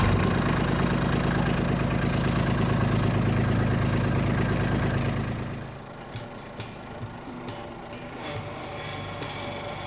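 A Kubota LX2610 compact tractor's engine runs loud and steady close by, then drops sharply to a quieter idle with faint knocks and rattles.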